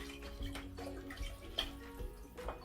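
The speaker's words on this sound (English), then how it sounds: "So I'm going to go in with my stock." Vegetable stock poured into a pot of parsnip soup in a home kitchen, a steady liquid splashing and trickling with a few brighter drips, fairly quiet and close with no talking.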